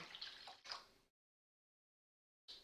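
A cup of water goes into a cooking pot in a short, close splash lasting about a second, followed by silence and then a brief final trickle.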